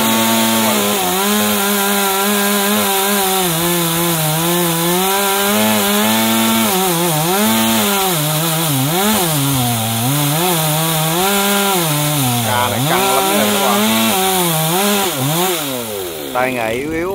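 A chainsaw cuts through a very large golden wattle tree in a town setting. The engine drones loudly and without a break, and its pitch rises and falls as the chain bites into the wood.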